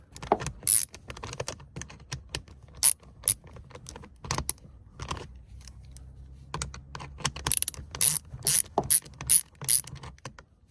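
Ratchet fitted with a 10 mm socket turning out a seat bolt on a 2008-2014 Cadillac CTS, a close series of sharp clicking bursts with short pauses between strokes and no talk.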